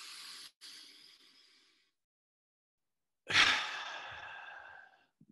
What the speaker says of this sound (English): Don't think about or worry about the sound your breath's making.